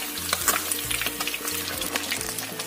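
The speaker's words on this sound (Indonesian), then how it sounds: "Kita goreng sampai bawahnya kering lagi ya" Fish fries in hot oil in a pan, giving a constant close crackling sizzle with small pops and spatters and no voices over it.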